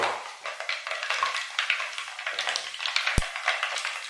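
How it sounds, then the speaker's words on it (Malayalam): Mustard seeds and fenugreek seeds crackle and splutter in hot oil for a pickle, a dense, steady run of sharp pops and sizzle close by, with one brief knock of a utensil and no talk. "കടുകും ഉലുവ പൊട്ടി"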